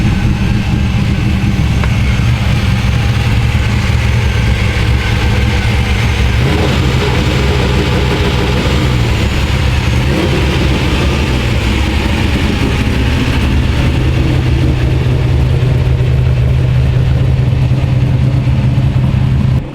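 A race car with a big LSX-block LS engine idles loudly and steadily, a lumpy low rumble with a constant intake rush of air, its pitch dipping and rising slightly, no voices over it.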